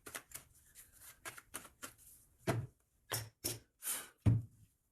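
An oracle card deck being cut and shuffled: a quick run of soft riffling and card flicks, then several separate sharper slaps and taps with short pauses between them, close and fairly quiet, no voices.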